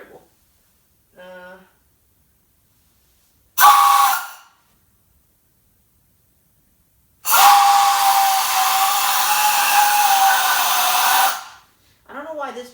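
A Crosby three-chime brass NYC subway whistle blown on high-pressure air gives a short loud blast, then a long sustained shrill chord of about four seconds, with brief voices before and after.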